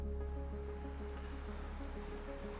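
A flowing river gives a steady broadband rush of water that continues without a break, with a low electrical hum running underneath.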